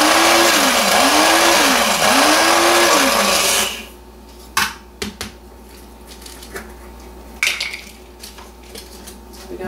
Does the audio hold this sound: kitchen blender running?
yes